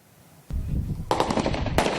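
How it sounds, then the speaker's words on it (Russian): Kalashnikov assault rifles fire loud, close bursts mixed with single shots during an intensive combat training exercise for mobilized soldiers and volunteers in Tatarstan. "Автоматные очереди чередуются с одиночными выстрелами."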